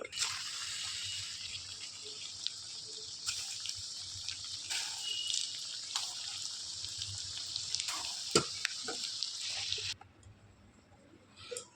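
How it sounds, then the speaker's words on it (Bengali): Chicken momos pan-fry in oil with a dense, even sizzling hiss and occasional spatters and taps, which cuts off abruptly near the end and leaves a quieter background. "এইভাবে সবগুলো মোমোকে ভেজে দেবো"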